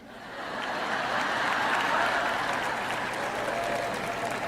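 A church audience applauds and cheers at a preaching event, a dense wash of clapping that swells up over the first second and holds steady throughout.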